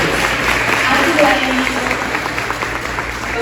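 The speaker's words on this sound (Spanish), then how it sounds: "Un fuerte aplauso" A conference audience applauds steadily for a doctor being introduced, a dense, even wash of clapping that lasts throughout with a faint background hum.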